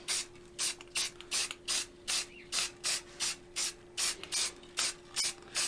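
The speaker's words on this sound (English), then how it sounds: "So let's spray this thing." An aerosol can hisses in about fifteen short, evenly spaced bursts onto a freehand-carved maple door sign, with a faint steady hum underneath.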